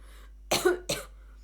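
Two short, sharp coughs close to the microphone, one after the other, in an otherwise quiet setting.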